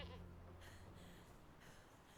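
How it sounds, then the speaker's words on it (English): Goat in the survival game Conan Exiles, a couple of faint bleats against a quiet game backdrop, with a soft voice in the background. "Oh, it's a goat."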